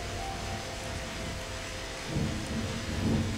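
A thunderstorm in the video game Farming Simulator rumbles as a low continuous roar with steady rain-like hiss, swelling slightly louder toward the end.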